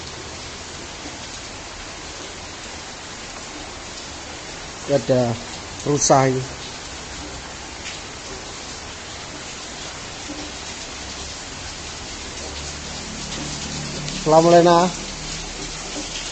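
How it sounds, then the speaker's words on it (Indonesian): Steady rain in Kertosono makes a continuous soft hiss throughout, with a few brief bursts of nearby talk riding over it. "Situasi di Kertosono hujan guys."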